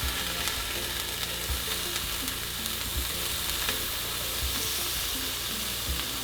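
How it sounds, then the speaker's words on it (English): Halloumi cheese frying on a hot cast iron pan gives a steady, loud sizzle with occasional soft low thumps from handling, close up and continuous with no voices. "And then we just fry them until they're golden."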